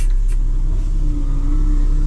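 A 2025 Kenworth T880 dump truck idles with its PTO engaged, a loud, steady low diesel rumble close by, with a couple of brief higher clicks at the start.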